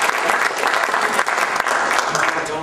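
Audience applause at the 2004 Australian Skeptics Convention welcomes astronomer Dr. Phil Plait, a dense, loud wash of clapping from a crowd that runs evenly throughout.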